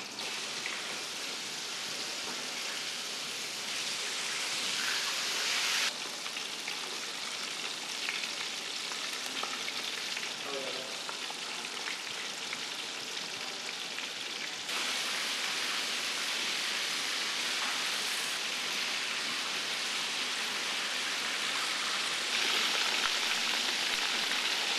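Steady, crackling sizzle of sea cucumber deep frying in hot oil over low heat, a dense hiss that stays even throughout with no voices.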